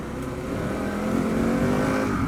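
Harley-Davidson Pan America motorcycle engine blipping its throttle, a loud, steady close-up drone with rising and falling revs and no talk.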